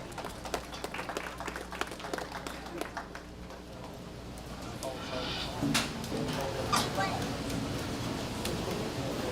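Audience applause at a junior livestock show for the class winners, a steady patter of clapping that swells and grows denser partway through, with a few sharp claps and a quiet voice under it.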